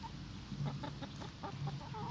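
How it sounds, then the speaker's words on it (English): Several chickens cluck in short, scattered bursts, fairly close, over a steady low background hum. "our chickens are like, give me some, give me some"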